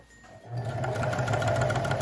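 A sewing machine stitches a visible seam on a mini dress bodice, starting after a brief pause and then running as a fast, even, close mechanical whir with rapid needle rattle.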